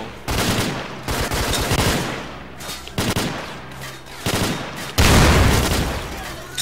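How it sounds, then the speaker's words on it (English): Gunfire in the shooter STALKER Clear Sky, with repeated bursts of rapid automatic shots in uneven clusters and short gaps, ending in a louder, denser volley. "I'm gonna shoot uselessly over here for a while."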